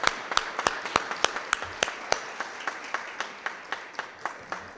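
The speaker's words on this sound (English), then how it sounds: "a big round of applause" Sparse applause at a city Board of Aldermen meeting, a small group clapping in a brisk, uneven rhythm of distinct sharp claps, fairly close and alone without talk.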